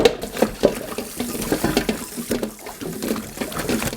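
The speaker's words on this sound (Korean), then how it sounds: "물에 한번 헹궈 줄 거예요." Cucumbers for kimchi are rinsed in water, with close sloshing, splashing and swishing as they are stirred and rubbed in a basin, in uneven bursts throughout.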